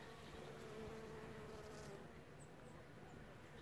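Bees buzzing around flowers on a subtropical Sochi hillside in early March, a faint continuous hum under low background noise.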